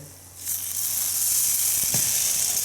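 Leftover French toast egg mixture hits a hot pan and bursts into a loud, steady sizzle that holds evenly to the end, with a faint clink partway through.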